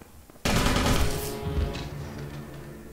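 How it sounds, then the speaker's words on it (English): Gunfire in a video game clan scrim match: a sudden loud burst of rapid shots that rolls on as continuous firing, then tapers into fainter echoing reports, with no talk over it. "He can certainly hear gunfire."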